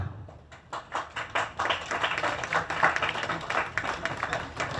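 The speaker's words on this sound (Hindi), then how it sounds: "देखिए मंच के पीछे से तालियों की गड़गड़ाहट सुनाई दे रही है" Applause from behind the stage at a theatre performance of the Kakori train action play, a dense run of many hands clapping at moderate distance, swelling and holding steady with irregular peaks throughout.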